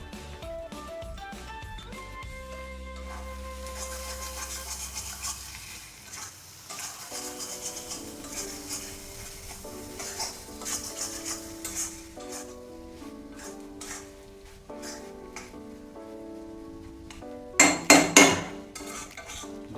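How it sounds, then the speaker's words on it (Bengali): Chicken bhuna with about a tablespoon of ghee sizzles softly in a pan while a utensil stirs and scrapes, with intermittent metallic clinks and a brief burst of louder clattering near the end; no talking. "আমাদের চিকেন ভুনা এবার আমরা 1 টেবিল চামচ মতন ঘি অ্যাড করলাম"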